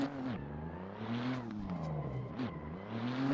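A Nissan Z race car engine in a racing video game, revving up and down in repeated smooth sweeps as gears change, loud and close with no talk.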